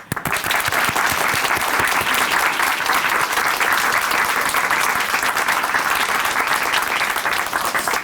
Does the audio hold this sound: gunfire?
no